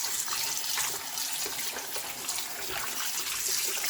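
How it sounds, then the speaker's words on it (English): Water runs steadily from a tap into a kitchen sink while raw pork is being washed, a continuous hissing gush with no speech over it. "We're going to wash this a few times, maybe 2-3 times, then put it to drain."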